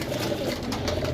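Domestic pigeons at a loft in Gujrat, Pakistan, give low, soft cooing that hums steadily through the short stretch, close by and fairly quiet, with no voices.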